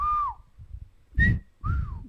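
A person whistles a few short phrases, gliding tones with clear pauses between them, close and fairly loud, with low background rumble underneath.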